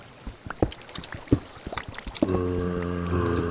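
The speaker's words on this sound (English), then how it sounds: "I'm seeing some water leak" Scattered water drips and small splashy taps in Minecraft, irregular and close, followed by a steady tonal hum that comes in partway through and continues to the end.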